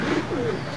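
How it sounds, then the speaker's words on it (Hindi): A soft, low pigeon coo rolls out briefly over a steady background hum, close and fairly quiet. "शबी भाई ने फिर से उड़ा दिया कबूतर"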